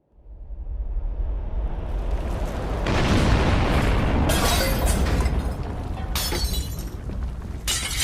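A deep explosion rises from silence into a sustained, roaring boom with rumbling debris and bursts of crackling, shattering noise, loud and dramatic with no voice over it.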